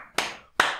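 Two sharp hand claps about half a second apart, loud and close, in an otherwise quiet room.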